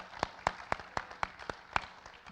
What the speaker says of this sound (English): And you guys should give yourselves a round of applause for how amazing you guys are.